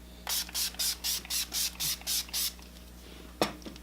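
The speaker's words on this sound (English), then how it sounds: "going in for the setting spray with Urban Decay's All Nighter Setting Spray." Urban Decay All Nighter setting spray misted onto a face in about nine quick, evenly spaced hissing bursts, close and fairly loud, followed by one brief sharper burst after a pause.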